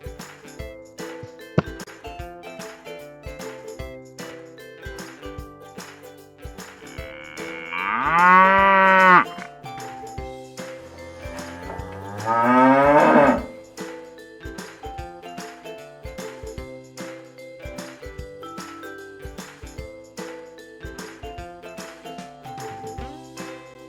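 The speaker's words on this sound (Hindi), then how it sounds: "गाय रंभाती है और इंग्लिश में कहते हैं द काउ मूज।" A cow moos twice, one long bellow and then a shorter one, loud and close over steady background music with a light rhythmic beat.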